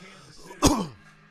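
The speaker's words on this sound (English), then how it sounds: "Stop all this coughing, please." A single sharp cough, close and loud, rising abruptly out of a quiet background and fading within a fraction of a second.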